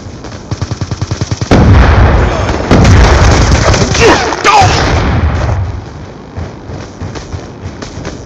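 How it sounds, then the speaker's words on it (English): A grenade detonates with a loud, booming blast amid heavy combat gunfire, after a quick run of rhythmic shots; the rumbling explosion and debris fade out toward the end. "Grenade!"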